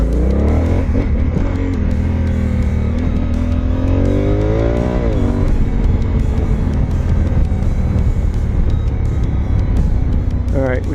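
A dirt bike engine revs loudly and close on a powerline trail while the rider tries a wheelie, its pitch climbing and dropping in repeated surges, with people talking over the engine noise.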